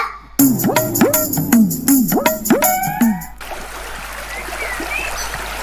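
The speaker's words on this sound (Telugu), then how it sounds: "అమ్మో, ఇక్కడ చాలా పెద్ద వాగుంది." Flowing stream water sound effect for a school annual day skit, a steady wash of trickling water that follows a few seconds of voiced calls near the start.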